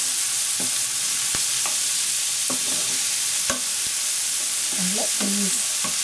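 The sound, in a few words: stir-frying sweet corn, peppers and mushrooms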